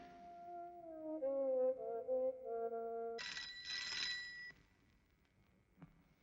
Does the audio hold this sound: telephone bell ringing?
yes